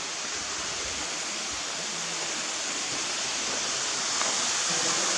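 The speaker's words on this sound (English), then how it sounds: "There's a waterfall over there." A misty waterfall at Hocking Hills State Park roars as a steady, dense rush of falling water that fills the air evenly from start to finish, with no talking over it.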